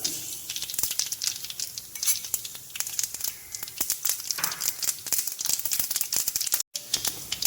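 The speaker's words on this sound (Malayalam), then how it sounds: "ഒരു സ്പൂൺ ഉലുവ ചേർത്ത് കൊടുക്കാം. ഒരു സ്പൂൺ കടുക് കൂടി ചേർത്ത് കൊടുക്കാം." Fenugreek and mustard seeds sizzle and crackle loudly in hot oil for rasam, with a dense, steady frying hiss and rapid popping, then a very brief dropout near the end.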